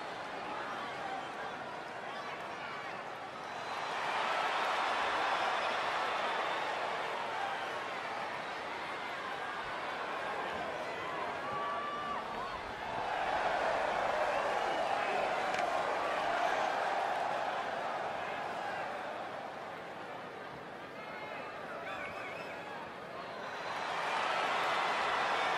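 Wrestling arena crowd after a match at a Silver Fox Wrestling show: a broad murmur of chatter with scattered laughter, surging in loud waves and easing back between, with a commentator talking over it.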